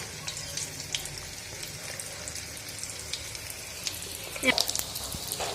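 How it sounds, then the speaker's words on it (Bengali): Potatoes frying in hot oil over a low-to-medium flame while being stirred gently, with a steady soft sizzle and a brief scraping clatter near the end, all under a person talking. "এভাবে নেড়ে চেড়ে ভেজে নেবেন নাহলে কিন্তু ভেঙে যাওয়ার সম্ভাবনা থাকে খুব হালকা আলতো করে এগুলোকে ভাজবেন"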